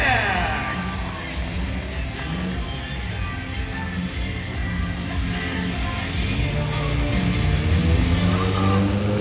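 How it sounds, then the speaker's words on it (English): Small mini monster truck engines rev and whine continuously at a monster truck show, rising and falling in pitch, with crowd noise faintly underneath. "What do you think of our mini monster trucks here tonight?"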